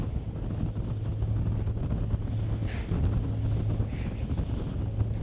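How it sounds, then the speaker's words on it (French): Strong wind buffets the microphone on the top deck of a ferry, a constant rumbling roar with a low engine hum underneath. "Beaucoup de vent."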